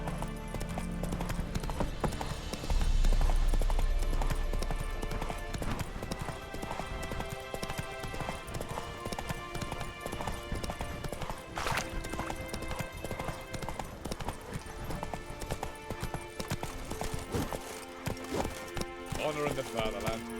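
Geralt's horse Roach galloping in The Witcher 3: Wild Hunt, with rhythmic hoofbeats running steadily through the scene under spoken game dialogue, music and other game sounds.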